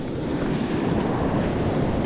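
High-tide ocean surf breaks along the Oregon coast at Lost Creek, a steady, loud roar of waves mixed with wind buffeting the microphone, with no voices.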